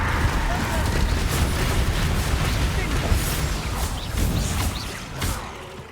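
Confringo fire blasts from Hogwarts Legacy crackle in a dense, continuous roar of explosive rumble across the whole stretch, with a voice shouting over the din.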